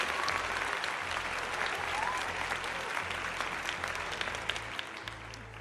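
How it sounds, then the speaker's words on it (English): Applause sound effect triggered by a viewer's channel-point redemption during a livestream, a steady wash of crowd clapping running loud and continuous throughout, with a low droning game soundtrack beneath. "Okay, enough with the applauses, otherwise I will remove the I will put in a timeout."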